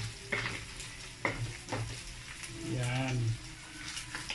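Pork belly sizzles as it fries in its own rendered fat in a pan for Batangas-style kilawen labanos. The crackle stays steady and close, broken by a few sharp clinks of a utensil, while a person talks over it.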